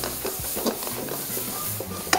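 Pasta carbonara ingredients fry in a pan with a steady sizzle, broken by scraping stirs and a few light metallic clinks, close and fairly loud, ending on a sharp tap.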